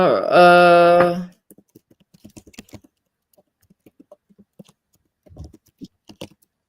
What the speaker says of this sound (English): sorry, I'm just typing in my chat